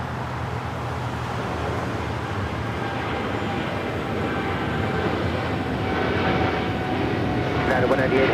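A Qantas Boeing 787 Dreamliner, flight 11 from Sydney, rumbling at LAX airport as a steady, slowly swelling jet roar under ongoing talk.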